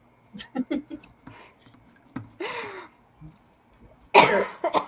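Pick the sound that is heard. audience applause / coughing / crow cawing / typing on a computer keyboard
coughing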